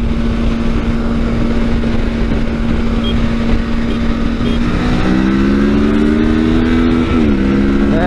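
A Kawasaki Versys 650 motorcycle pulls hard in second gear toward 80, its engine drone steady and loud throughout with a rising pitch and a brief dip midway, heard close with wind roar and no talking.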